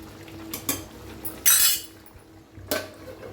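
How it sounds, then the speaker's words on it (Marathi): A pot of upma being stirred and covered: a few sharp metallic clinks and scrapes of a utensil against the pot, then a louder clatter as the lid goes on, in a quiet kitchen. "आता हलवून घेऊया आणि झाकून शिजूया"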